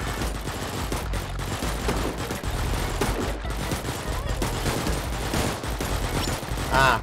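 Sustained video game gunfire, a dense continuous fusillade of rapid shots with automatic bursts, loud and steady throughout the stretch.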